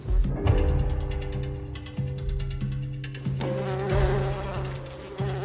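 Bees buzzing around a hive in the wild, a dense close drone with several overlapping wingbeat tones that shift in pitch as insects fly near, steady throughout with no voices.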